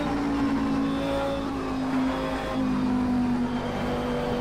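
Race car engine in a Dubai 24-hour multi-class racing video game, with a BMW nearby on track, a steady sustained drone with slowly shifting pitch and no talking.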